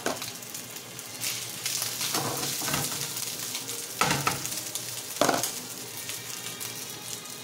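Spicy sausage fried rice stir-fried in a hot pan, a steady close sizzle broken by several scraping stirs and a couple of sharper clanks of utensil on pan, with no voices.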